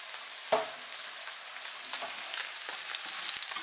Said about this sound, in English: Now we'll mix this all together.